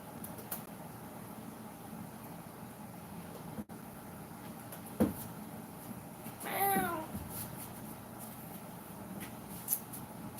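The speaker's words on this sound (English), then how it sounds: "Just talking to my cat." A house cat gives a single short, quiet meow close by against a faint steady room hum, with a few soft taps and rustles around it.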